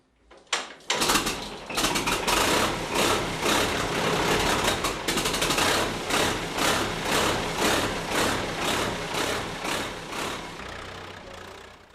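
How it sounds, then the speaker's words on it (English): A vintage Fordson tractor working an oat field in Ireland starts up after a short silence, then chugs on with a steady pulsing engine beat, rhythmic and fairly close, with no talk over it. "The man driving Eamon's Fordson is Brendan McLarnon from Desert Martin."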